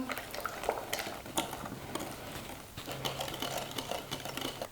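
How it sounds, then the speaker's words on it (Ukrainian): Eggs being mixed into sweetened strawberry cheesecake batter, a continuous close churning and scraping texture with small irregular clicks and knocks from the bowl throughout. "Додаємо яйця, перемішуємо."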